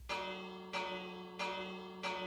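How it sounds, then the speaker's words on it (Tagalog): A newly bought bell in Minecraft rings four times in a steady rhythm, each loud metallic strike ringing out before the next, with nothing else heard. "Papatunugin natin yung bagong biling bell natin."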